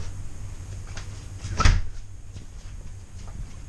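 A newly hung door in a garage being converted into living space swings shut with one short, close thud, heard against a steady background hum.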